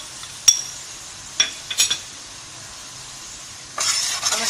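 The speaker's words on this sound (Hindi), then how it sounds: "अब अच्छे से हम इस मसाले को भूनेंगे।" Ground spice masala of red chilli, coriander, salt and turmeric being stir-fried in a pan for besan kofta, with a few sharp scrapes of a spoon against metal and a soft sizzle building toward the end.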